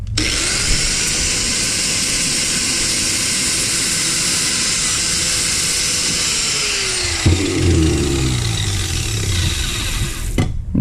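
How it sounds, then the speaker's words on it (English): Grinder working a leftover burr off a part from a trailer landing gear box, a loud steady whine that holds for about seven seconds, then dips and wavers as the pressure changes, close up with no talk. "Instead of ruining that bushing, we'll just take the grinder to it a little more."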